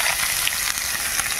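Ash gourd cooking with small shrimp, salt and turmeric in a pan: loud, close, continuous frying sizzle with faint stirring scrapes, no voices.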